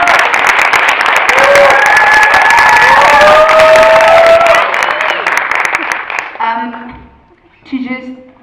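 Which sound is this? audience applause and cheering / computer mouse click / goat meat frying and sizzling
audience applause and cheering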